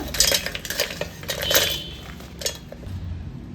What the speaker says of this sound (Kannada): ಒಂದು ಮಿಕ್ಸಿ ಜಾರ್ ತೊಗೊಂಡು ಈಗ ಹಾಕ್ಕೊಳ್ಳೋಣ